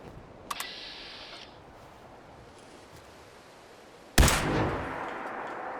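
Laser sniper rifle shots in a video game: a faint, sharp crack early on, then a much louder, abrupt blast near the end that leaves a short ringing decay, set against a quiet hiss.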